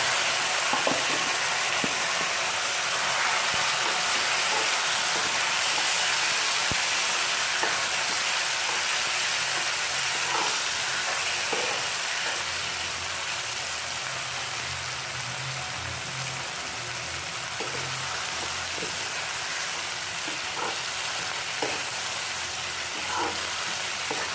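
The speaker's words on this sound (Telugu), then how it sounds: "ముందుగా మిక్సీ చేసుకున్న టమోటాని వేసుకొని బాగా ఫ్రై చేసుకోవాలి" Blended tomato paste for Andhra-style tomato pickle fries steadily in a pan, a continuous dense sizzle and crackle with occasional stirring scrapes, close and loud throughout.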